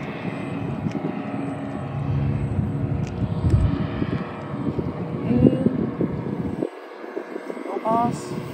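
A Wltoys XK A280 brushless RC P51 Mustang model plane makes a low pass outdoors, its electric motor whine rising and fading against wind noise while a voice talks nearby.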